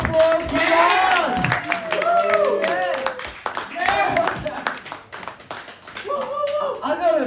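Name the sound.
audience applause for comedian Rod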